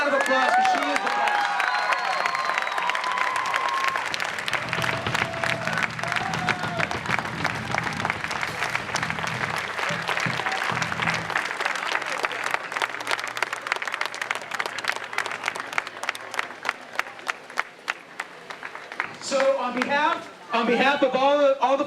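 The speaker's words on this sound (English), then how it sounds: "Give this woman a round of applause because she is the best." Audience applause at a university president's retirement celebration, steady clapping from a large crowd that fills the space, with talking heard over it and a brief lull near the end.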